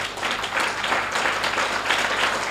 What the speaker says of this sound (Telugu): ఈ చప్పట్లు ఏం సరిపోవు